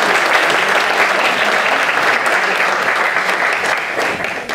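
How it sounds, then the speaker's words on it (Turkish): Dense, sustained applause from an audience at a university student gathering in Elazığ, steady and loud throughout before easing slightly near the end, with no speech over it. "Evet, güçlü bir şekilde alkışlıyoruz arkadaşlar."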